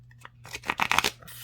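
Tarot cards from a new Garbage Pail Kids deck, cardstock, flexed in the hands: a brief cluster of soft, close crackling flicks and rustles, fairly quiet, with no talking.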